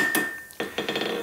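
Hammer blows on a forged metal bagpipe key, with a bright ringing strike followed by a quick run of lighter metallic taps. Close and clear, no talking.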